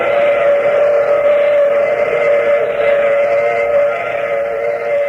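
A steam train whistle blows in a radio drama, a loud, steady sustained tone lasting several seconds with a hissing, rumbling rail background and no voices.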